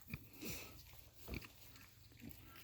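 An Ossabaw boar pig grunts in a few low, snuffling bursts, close but faint, with quiet sniffing between the grunts and no talking.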